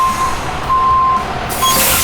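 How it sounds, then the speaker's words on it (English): A truck comes to a stop and its air brakes release a short, bright hiss near the end, over a low engine rumble and steady electronic beeping. "How dramatic was that stop with the air brakes?"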